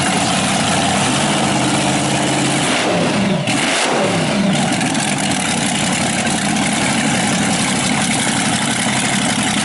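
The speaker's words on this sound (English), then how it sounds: "it looks like they started up that blown Chrysler. Hear the blower surge." At an outdoor car show, a blown Chrysler engine roars close and loud, with a blower that rises and falls in a sweeping surge mid-way as it revs, then settles into a heavy, steady idle rumble.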